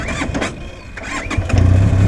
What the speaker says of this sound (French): Alors, l'injection, on l'entend bien.